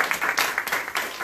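A church congregation applauds during a sermon by Pastor Samuel Ghori, with a burst of many hands clapping close by, loud and dense, swelling and dipping over a brief moment.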